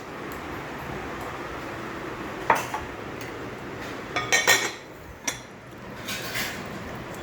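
Small steel plates clink and rattle together in a few separate bursts, a cluster of sharp metallic knocks in the middle, over a low steady background hum, with no speech.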